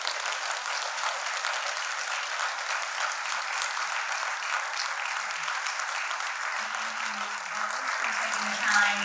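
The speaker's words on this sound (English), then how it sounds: "Can we get a round of applause for our candidates?" A crowd applauding steadily, dense clapping throughout at moderate loudness, with a faint voice near the end.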